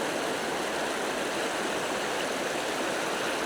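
River rapids on the Struma River: a steady, dense rush of fast water breaking over rocks, close and continuous with no pauses.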